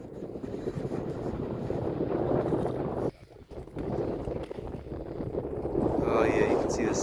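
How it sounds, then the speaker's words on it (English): Strong wind buffets the microphone on a mountain peak during a solar eclipse, a steady roar that drops away briefly partway through, with people talking under it. "the wind is picking up more and it is getting darker"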